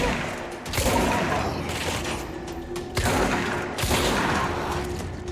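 Gunfire rings out in the video game Alan Wake as dense bursts of rapid shots, loud and close, with a few sharp cracks standing out over a steady mechanical background.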